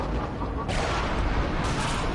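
Gunfire in the VR shooter game Rush of Blood bursts out loud and dense, with rapid booming shots packed together in a steady, roaring barrage.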